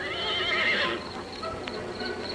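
A horse whinnies loudly for about a second, followed by quieter rustling and faint movement sounds.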